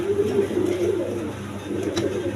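Male pigeon cooing close by in a steady, throaty rolling coo, repeated low pulses over light background noise.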